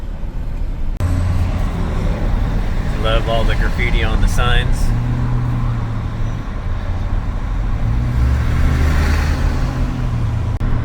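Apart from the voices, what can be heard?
stop-and-go highway traffic in Seattle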